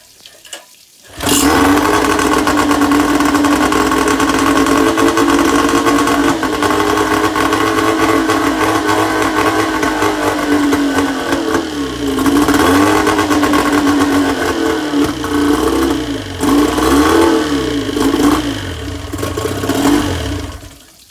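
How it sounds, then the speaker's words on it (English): An outboard boat motor with a carburetor fuel problem runs lean, starting after a short pause and then buzzing loud and steady close by with a rough, surging rise and fall for about twenty seconds, no voices. "the motor's definitely acting like it's running lean and running out of fuel and whatnot"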